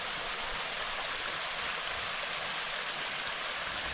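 Clean Appalachian mountain stream water rushes steadily down toward a waterfall, a constant, broad, hissing flow, fairly quiet and unbroken, with no voices.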